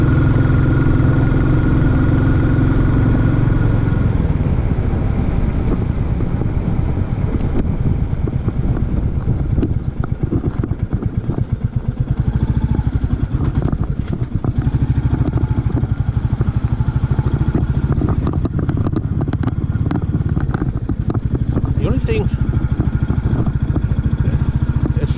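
Royal Enfield motorcycle engine pulling uphill, a loud continuous low thump and drone mixed with heavy wind buffeting across the whole stretch.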